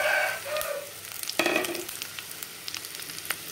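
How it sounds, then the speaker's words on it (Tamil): Chopped onions and curry leaves sizzle in hot oil in a pan, a steady frying hiss with crackles and small pops, loudest at first and settling to a softer sizzle. "இதே நல்லா வதக்கிடணும் வெங்காயம் வந்து."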